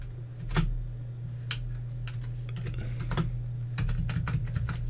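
Fingers tap out a run of keystrokes on a computer keyboard while entering AutoCAD line coordinates, irregular close clicks clustering in quick bursts over a steady low electrical hum.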